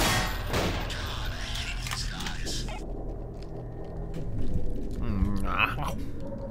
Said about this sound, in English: You have shotguns and machine guns!